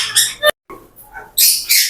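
Birds at a large bird farm squawk in loud, sharp bursts close by, with short pauses between calls and no talking.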